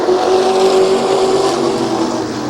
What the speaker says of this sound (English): the 4 of Mills and the 82 of Ertl coming to green turn 4, back underway halfway through this 8-lap heat